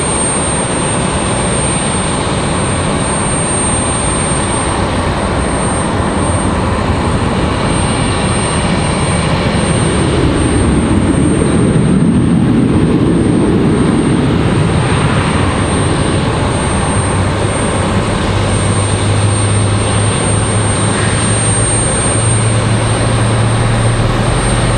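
A Delta airliner from Los Angeles roars past at Raleigh Durham airport in stormy weather, its jet engines producing a loud, broad, sustained rumble and whine that swells in the middle and then eases off.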